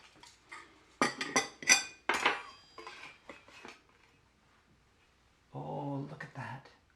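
Cutlery scrapes and clinks against a plate while a slice of gluten-free strawberry shortcake is cut and served, giving several sharp metallic taps close up, followed by a person speaking briefly.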